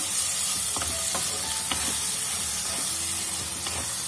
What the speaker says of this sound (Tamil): இந்த இறாலும் சேர்த்துடலாம். இதே நல்லா கிளறி விட்டுக்கலாம்.